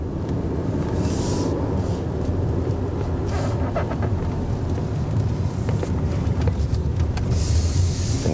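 Cabin of a 2018 Audi A8L 55 TFSI with a 3.0 engine while driving, a loud steady road and engine rumble with wind noise and occasional light clicks and rattles inside the car.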